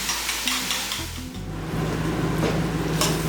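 Beaten egg frying in a frying pan for Chinese rice, a loud continuous sizzle close up with low humming and occasional stirring scrapes.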